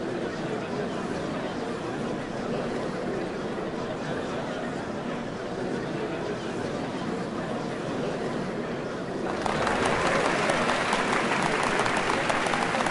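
In a Final Fantasy XIV scene, a large crowd applauds continuously as a dense, even wash of clapping and chatter, growing brighter and louder near the end.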